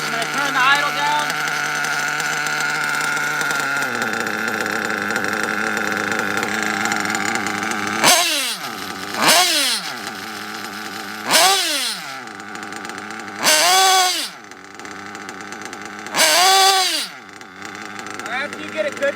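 A high-revving nitro model engine holds a fast idle during tuning, then drops and surges in several short bursts toward the end, loud and close with someone talking over it.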